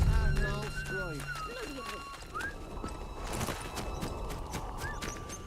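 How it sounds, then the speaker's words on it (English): A horse in the video game Atomfall whinnies and snorts while hooves clip-clop, mixed with game ambience and someone talking over it. "Sounds like a horse, dude."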